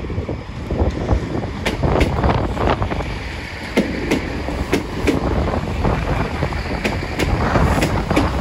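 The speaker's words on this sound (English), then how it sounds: "it's pretty windy now." Wind gusts rush and buffet the microphone on a railway station platform at Exeter St Davids, a loud continuous roar with faint rail clicks mixed in and no voices.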